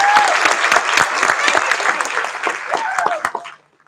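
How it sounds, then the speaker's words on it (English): Round of applause from the audience at a school board meeting, steady dense clapping for nearly four seconds before stopping abruptly, with some talk audible beneath it. "So I got a round of applause for our wrestling program."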